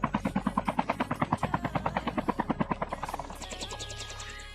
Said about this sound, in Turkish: Helikopter alıp kaçacak bak şimdi izle.